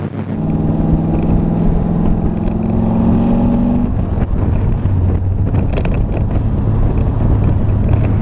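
A 1969 Corvette convertible cruising steadily, its engine a continuous low drone that shifts pitch partway through, mixed with road and wind rush, close and fairly loud with no talking.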